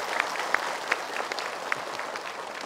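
An audience at a religious lecture gives a round of applause, a moderate, somewhat distant patter of many hands with a few sharper individual claps standing out, steady over a couple of seconds.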